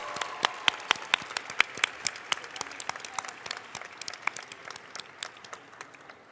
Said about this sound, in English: Can we give both these teams one more round of applause, please?